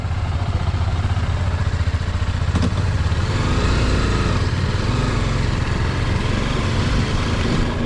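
A motorcycle engine runs loud and close on a road trip toward Mysore, holding a steady rumbling drone for the whole stretch with slight rattling on top and no talking.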